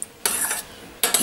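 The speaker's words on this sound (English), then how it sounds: "And I am just melting this butter first" Butter melting in a pan while a utensil scrapes and stirs, two bursts of close, bright scraping separated by a quieter pause with a faint sizzle underneath.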